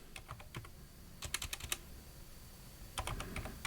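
Quick bursts of keystrokes on a computer keyboard as a prompt is typed, clustered in short runs with pauses between, close and fairly quiet with no voices.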